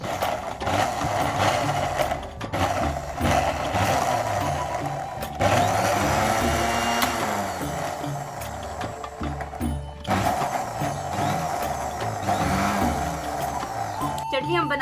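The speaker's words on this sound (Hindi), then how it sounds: "अब इसे अच्छे से ग्राइंड करते हैं।" Electric mixer grinder blending green chutney with tomato, a loud, steady motor whir with a grinding buzz that runs throughout, briefly dipping a few times, with a voice talking over it.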